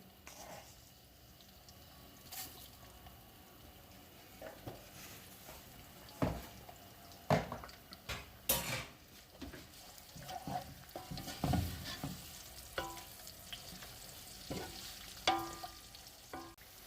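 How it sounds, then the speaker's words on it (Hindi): Small white cumin seeds frying in a pan for chicken pulao, a soft crackling sizzle broken by sharp scrapes and clacks of stirring that come in irregular bursts, fairly close but quiet overall. "थोड़ा सा ज़ीरा फ्राई कर लिया है।"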